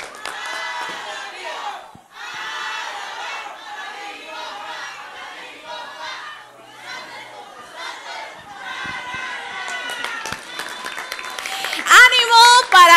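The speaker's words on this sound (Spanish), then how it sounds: "Ahora un aplauso para todos mis muchachos y una porra, 1, 2, 3." A television singing-contest audience cheers and applauds on a host's cue, a loud, sustained crowd roar with shouts and whoops that swells further near the end.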